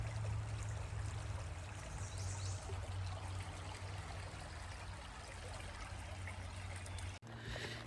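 Water from a stream trickles and gurgles beside a hiking trail on the Appalachian Trail in Connecticut, a soft continuous flow with a steady low hum underneath and a brief break near the end.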